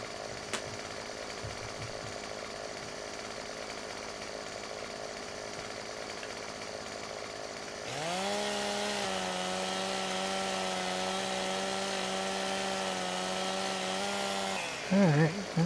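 Chainsaw in the Farming Simulator 15 video game, with a steady background drone before the saw's higher buzzing note kicks in around midway and runs constant and close, ending with a brief rough burst.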